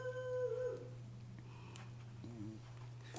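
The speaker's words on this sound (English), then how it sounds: "There's our trusty dog Sugar Bell." A dog indoors gives a short, faint whining howl and yip, alerting at people walking past the house; quiet, brief, with a steady low hum behind it.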